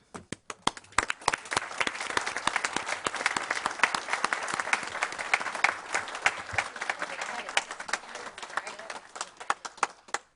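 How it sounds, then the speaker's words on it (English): Audience applause in a school board meeting room, a sustained round of hand claps that builds quickly, holds for several seconds and then thins out into a few final claps. "I'm going to break with decorum and give her applause."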